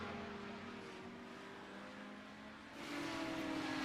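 A GT race car in the iRacing sim drones steadily at a distance, then its engine note rises and strengthens toward the end, with no talk over it.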